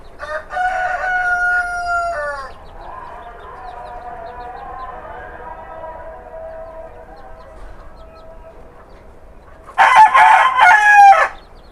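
Ornamental hens and a rooster in a backyard coop crow loudly twice, a long crow at the start and another near the end, with steady clucking and fowl chatter filling the gap between.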